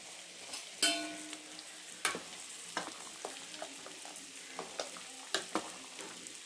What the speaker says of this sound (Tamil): எல்லாம் குழம்பு நல்லா கொதிச்சுக்கிட்டு இருக்கு.